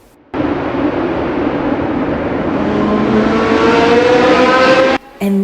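A historic race car at the Monaco Historic Grand Prix roars loudly past at close range, its engine note rising steadily for several seconds before cutting off abruptly.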